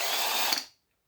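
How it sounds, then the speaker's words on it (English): A power drill whirs steadily while removing plugs from brass scrap, close and loud, then spins down and stops abruptly. "when I have a drill, power drill, I take off the plugs like so"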